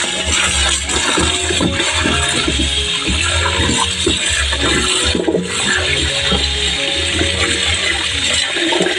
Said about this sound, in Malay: Sekarang saya lanjut untuk cuci terlebih dahulu kita punya ubi ni sehingga bersih